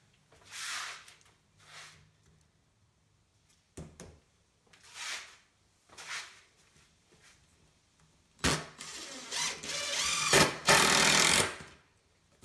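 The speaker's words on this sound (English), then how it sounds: "Then run all your screws into place." Power drill driving 2.5-inch wood screws into a wooden picnic table, several short whirring bursts separated by quiet gaps, ending in longer louder runs, close by.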